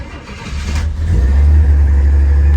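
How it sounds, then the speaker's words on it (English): A 1965 Pontiac Tempest two-door engine cranks and catches, then settles into a loud, deep, steady roar that builds and holds close by. "Let me fire it up for you and show you the really cool engine this car has."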